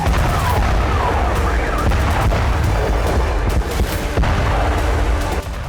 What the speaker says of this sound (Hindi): जोरदार धमाके के साथ आसमान में उठता बारूदी ज्वाला का ये गुबार। इस प्रचंड ब्लास्ट के बाद लगातार बजती अलर्ट सायरन की आवाज